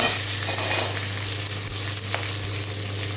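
Garlic, green chillies and mint sautéing in a pan give a steady, close hiss of frying with a low hum beneath and faint stirring, no voices.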